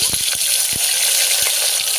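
Mustard seeds and cumin sizzling in hot oil: a bright, steady hiss up close, broken by scattered sharp pops and crackles as the seeds burst.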